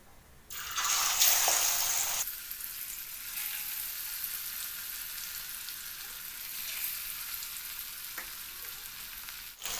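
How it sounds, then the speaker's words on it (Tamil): Masala-coated fish goes into hot oil in an iron kadai, bursting into a loud, close sizzle that lasts nearly two seconds, then settles into a steady, quieter frying hiss, with no talking. "நம்ம இந்த மீனை போட்டு பொரிச்சு எடுத்துக்கலாம்"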